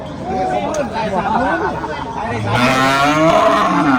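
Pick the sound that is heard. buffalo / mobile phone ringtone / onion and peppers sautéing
buffalo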